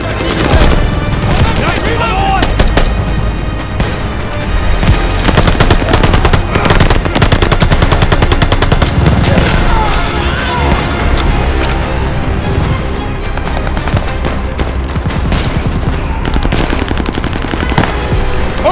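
Sustained machine gun fire in Call of Duty Vanguard's Operation Tonga campaign. Rapid loud bursts run almost continuously, with booms mixed in, and shouted voices are partly buried underneath.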